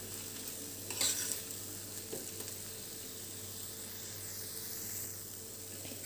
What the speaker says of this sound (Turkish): içine bir paket şekerli vanilya karıştırmaya devam ediyoruz